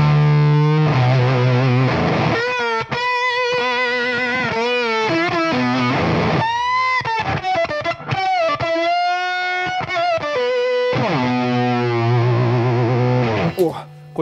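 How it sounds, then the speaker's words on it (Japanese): An electric guitar runs through a Bit Commander fuzz pedal into a loud crunch amp, playing a gritty, sustained riff of held notes and bends that continues steadily up close. "クランチのこの音量でかくしたやつにビットコマンダーかけてるっていうパターンが多いですね"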